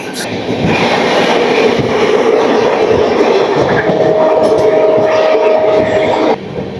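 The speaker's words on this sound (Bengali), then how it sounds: "এই যাত্রাপথে আমাদের সঙ্গে আমরা এই মধ্যে ক্রস করতে চলেছি যমুনা নদীকে" Howrah Barmer Superfast Express crossing the double-decker Yamuna rail bridge, with a steady loud rumble of wheels and carriages throughout and a sustained tonal whine entering near the end before the noise briefly drops.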